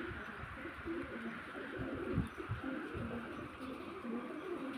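Pigeons coo softly in repeated low calls at a close distance amid strong wind, with faint rustling and breathy background noise under them.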